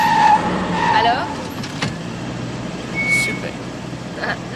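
A car engine idles steadily at a nightclub stop in the evening, a low continuous rumble under loud ambient noise and people talking nearby.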